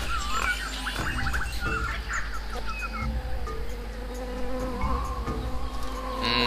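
Buzzing bee in the adventure game Tales of Monkey Island, a wavering insect drone among jungle bird chirps and other game sounds, steady throughout without speech.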